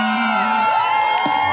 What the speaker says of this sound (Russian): Эти аплодисменты вам, дорогие телезрители.